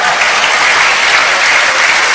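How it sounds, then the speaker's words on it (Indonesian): Thick, loud applause from a church congregation during a sermon, continuous and even for the whole stretch. "Tepuk tangan dong buat saudara"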